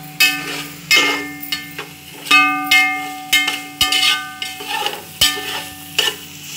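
Vegetables for veg fried rice being stirred in a pan with a utensil, producing repeated loud scraping and clanking strokes roughly every second over a steady sizzle, with no talking.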